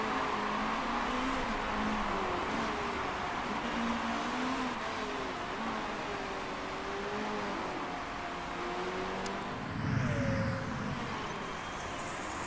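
Race cars droning steadily around a track, engines whining and shifting pitch as they accelerate through turns, a sustained mechanical roar at moderate distance with commentators speaking over it.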